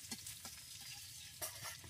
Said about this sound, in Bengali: তেল গরম হয়ে গেছে, এখন পেঁয়াজ দিয়ে দিব